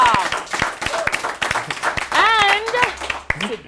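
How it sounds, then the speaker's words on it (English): An audience claps for a youth debate team of competition finalists, with scattered applause mixed with voices and cheering in a lively room. "Clap for yourselves, guys."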